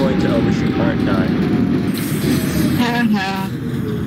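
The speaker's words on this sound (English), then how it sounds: "This is a 754 W train at Canal Street" An R68 subway train in the OpenBVE simulator runs along with a loud, continuous rumbling roar, while tonal whines and wheel sounds rise over it and a voice talks throughout.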